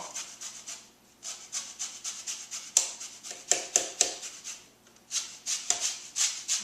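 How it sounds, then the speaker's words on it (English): A lemon is zested over a bowl of cookie dough, giving a series of short, close, dry scraping strokes in an uneven rhythm, some sharper than others, with no talking. "I'm also going to zest over my lemon."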